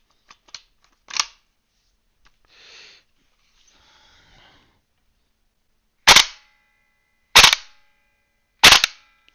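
A VFC AK-74M airsoft rifle is dry fired with no BBs loaded, giving three loud snappy shots spaced about a second apart after some softer clicks and handling noises.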